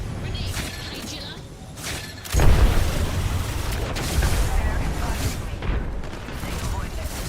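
A grenade goes off in an Apex Legends firefight, a heavy booming burst landing partway through amid ongoing gameplay noise and shooting.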